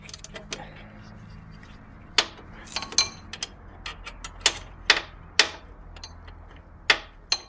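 A wrench works the tension regulation bolt on a Toyota Corolla 4AFE 1.6L engine, producing irregular sharp metallic ratchet clicks and taps, close and crisp over a quiet background.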